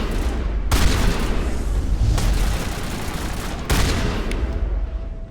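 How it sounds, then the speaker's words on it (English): Shotgun blasts in the video game Mass Effect, set against a loud, dense battle mix: a few heavy, sharp booms stand out at irregular moments over a steady roar of combat noise. "I think it might be good to bring out Tally's shotgun at this point"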